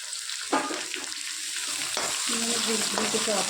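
Onions sizzle in a hot pan in a home kitchen while soya chunk curry is cooked, with a steady crackling fry broken by a few sharp clinks and scrapes of stirring.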